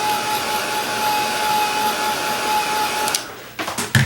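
Handheld dryer blowing a steady, loud stream of air over wet acrylic paint on a fuzzy Christmas stocking craft, a continuous whir for about three seconds before cutting off, followed by a few faint handling clunks.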